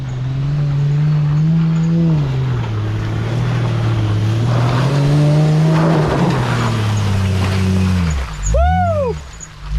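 Nissan Patrol 4WD pushing hard through deep mud on a rainy track, engine droning loud and steady with rising and falling revs, then a sharp rev surge near the end; no talk.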